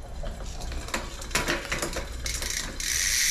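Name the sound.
bicycle gears clicking while adjusting Giant Trance X 2025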